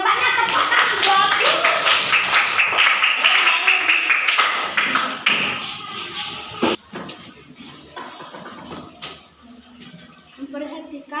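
A class of children claps hands together in a school lesson, a loud burst of many hands during the first half that thins to a few scattered claps, with a teacher's and children's voices around it.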